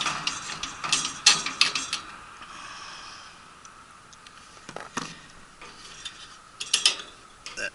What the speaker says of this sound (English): Take these nuts off of those bolts